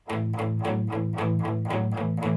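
Distorted electric guitar sounding two notes together on the fourth string in a twelve-bar blues pattern, a repeated chugging shuffle rhythm of even strokes, loud and close with no talking.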